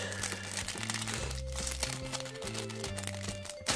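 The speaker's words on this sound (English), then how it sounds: "So let us unwrap this. You don't need scissors for this." A 1upBox subscription box package is unwrapped by hand without scissors, giving close crinkling and tearing of packaging over steady background music.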